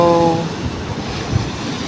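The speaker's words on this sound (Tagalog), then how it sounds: "Sobrang lakas ng alon at naririnig yun naman." Strong ocean surf on a beach in Zambales at night rushes and rumbles steadily in a broad, loud wash, with a brief tonal sound at the start and buffeting wind noise.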